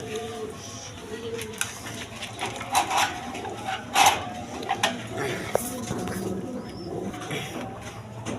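Red gola pigeons coo in short, soft bursts close by, mixed with scattered clatter and a busy background murmur of people.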